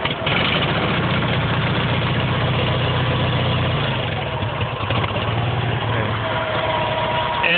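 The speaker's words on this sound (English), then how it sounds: "I'm hoping if I put some gas in it today, it'll start up." An SS/16 garden tractor engine idles steadily after a cold start, a continuous, close, rough mechanical drone that holds for several seconds without any talk.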